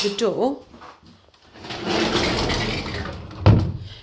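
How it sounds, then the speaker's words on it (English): A bathroom sliding door in a rented house rolls along its track with a steady rumble, then shuts with a firm bump, preceded by a few small clicks. "the door is a sliding door, closes fine."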